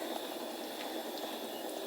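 Fish stewing in gravy in a covered pot over low heat gives a faint, steady simmering hiss that stays even throughout, with no voices.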